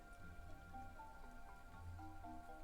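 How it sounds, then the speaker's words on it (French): Rain falls outside in a soft, continuous patter, faint and even, with no voices and only a low steady hum beneath it. "on entend bien la pluie"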